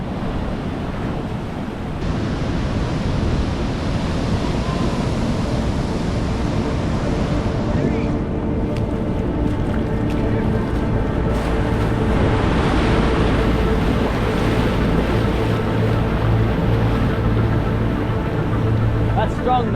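Ocean surf rolling in on a sunny low tide with a big swell, a steady broadband wash of breaking waves with wind buffeting the microphone throughout.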